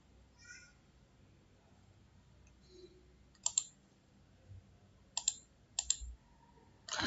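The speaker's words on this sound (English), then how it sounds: "click on execute button" A computer mouse clicks on an execute button in quiet surroundings, a few sharp separate clicks spread out over several seconds, some in quick pairs.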